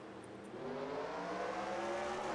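Race car engines roaring in NASCAR Racing 2003 at Richmond, a dense continuous drone of several cars droning together at a steady high level, with no talk.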